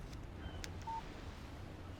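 A soft electronic phone alert for an incoming text message in the Alan Wake video game, a brief single beep tone over a quiet low background hum.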